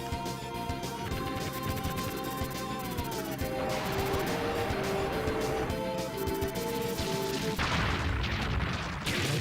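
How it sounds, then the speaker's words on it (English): Boss explosion effect from the Sega Saturn game Dezaemon 2: repeated crashing, crackling blasts layered over stepped electronic game tones, continuous and moderately loud. "we've got a nice little explosion effect as well"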